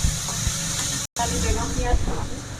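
Chicken pieces sautéing in a pan for a soup, a steady hissing sizzle with faint scraping from stirring, continuous apart from one brief dropout.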